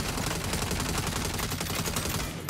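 Rapid automatic gunfire from the video game Saint's Row rattles as a loud, unbroken burst of closely spaced shots, sustained throughout with no talk over it.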